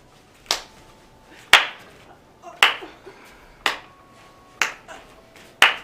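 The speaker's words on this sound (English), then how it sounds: "The mall goer couldn't stop clapping." Sharp single claps ring out one at a time at roughly one-second intervals, six in total, each crisp and close with a short reverberant tail, in a quiet room during a campfire-style ghost story.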